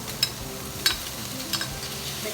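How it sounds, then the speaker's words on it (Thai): Shrimp stir-fried in a hot pan with red curry paste, a close, even sizzle punctuated by three quick spatula clinks and scrapes, without any talking. "แล้วก็ใส่กุ้งลงไปค่ะ"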